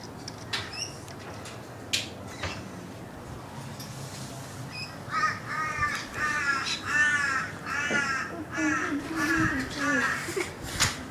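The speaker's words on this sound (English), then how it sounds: "It is a Indian ringneck." Indian ringneck parrot calling indoors, a run of raspy, rapid chattering squawks that swell in the second half, fairly close and loud, with scattered bird noises and room sounds before.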